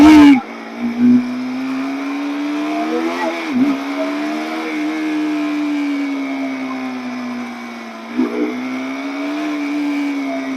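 A KTM RC 200 motorcycle engine drones steadily and loudly as the bike rides, with a couple of brief rev swells, its hum constant and close throughout.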